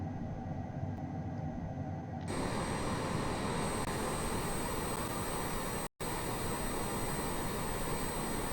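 HondaJet HA420 twin jet engines in Microsoft Flight Simulator during the climb, a steady loud broadband roar with a high whine, continuous apart from one brief dropout, with no talking.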